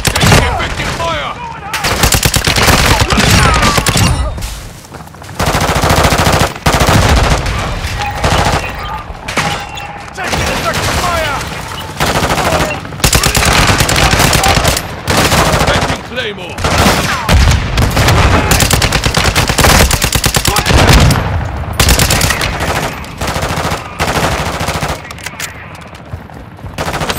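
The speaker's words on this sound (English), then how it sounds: "Taking effective fire!" Rapid, sustained automatic gunfire in Call of Duty: Modern Warfare 2 DMZ mode, loud bursts of machine gun fire with scattered explosions, continuing almost nonstop with a few short pauses, under occasional radio chatter.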